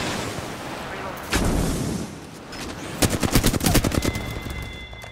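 Close, loud gunfire in Apex Legends: a sharp burst, a pause, then a rapid automatic string of shots with game voice lines briefly heard.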